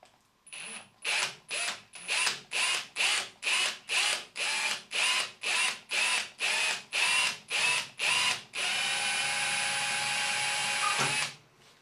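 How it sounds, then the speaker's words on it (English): A drill running in reverse with a left-handed bit bores into a broken stud deep in a recessed hole, close by. It fires in a rapid series of about fifteen short pulsed bursts, then one steady continuous run that stops abruptly. "So I'm now going to flick the drill into reverse, and then we're going to proceed to drill into the stud."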